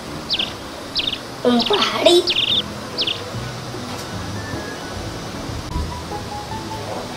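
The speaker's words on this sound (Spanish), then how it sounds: "pajarito" Small bird chirping in a home patio with a kiosk, chairs and a tree: several short, high chirps early on, fairly close, partly overlapping a brief spoken word, then quieter background ambience.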